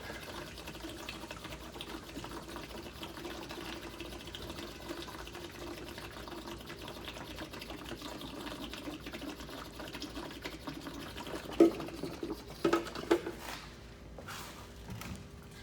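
A windshield washer pump motor on a Kenworth T680/T660 truck hums faintly and steadily, with a few brief clicks and spurts of liquid near the end.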